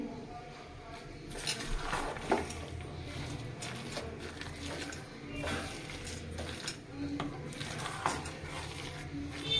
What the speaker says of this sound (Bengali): সেই জন্য চামচে দিয়ে মাখছি ছোট চিংড়ি